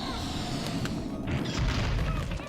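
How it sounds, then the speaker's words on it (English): A boulder fired by a decorated cannon beetle in the video game Pikmin 2 rumbles and crashes, a loud continuous low roll with a heavier impact swell near the end. "their boulders home in onto the captain."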